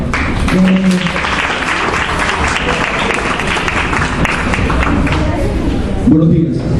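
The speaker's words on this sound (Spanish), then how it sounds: "Aplausos." Seminar audience applauding to welcome a biomedicine speaker, a dense sustained round of clapping lasting several seconds, with a voice briefly audible near the end as the applause tapers.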